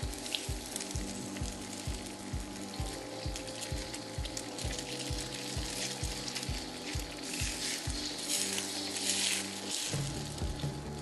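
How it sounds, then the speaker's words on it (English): Eggs sizzle in a hot wok for egg fried rice, a steady bright crackling hiss with a low rhythmic pulsing underneath, close and continuous with no talk. "Hot wok here, starting off with eggs."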